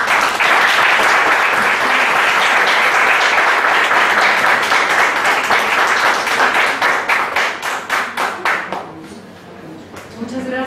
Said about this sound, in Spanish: el maestro Ledesma Pichet, le damos su reconocimiento y obviamente el reconocimiento de todos ustedes con un fuerte aplauso